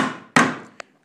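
Hammer blows land sharply on a metal hoop being driven onto a wooden bucket in a cooper shop: one loud ringing strike dies away, followed by a quick lighter tap.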